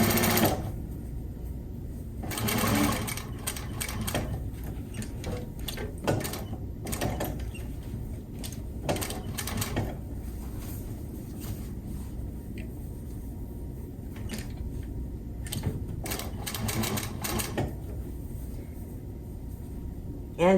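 A sewing machine stitches the seams of a box cushion for a pin-fit slipcover, running in repeated bursts of steady mechanical whirring with short pauses between runs, close and fairly quiet.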